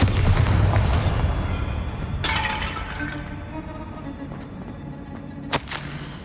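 Bombarda blasting spell in Hogwarts Legacy: a heavy rumbling boom that fades into crumbling, shattering debris, then a sharp crack near the end, loud and close with no speech.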